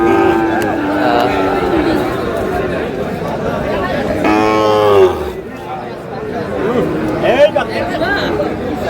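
Sahiwal cattle at a busy livestock market give a loud, drawn-out moo, and fainter lowing follows amid a constant babble of people talking nearby.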